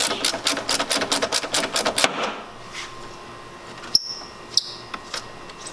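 A ratchet wrench loosens 10mm bolts on a 10th gen Honda Civic headlight, a fast run of crisp clicks for about two seconds, then a few isolated sharp metallic ticks, close and without talk.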